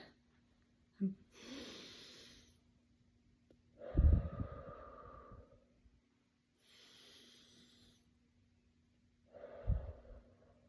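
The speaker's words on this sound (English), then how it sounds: "I better do some 5-finger breathing." A person does slow, deep calming breaths for a five-finger breathing exercise: three or four separate airy inhales and exhales, each lasting about a second or two, with quiet pauses between them.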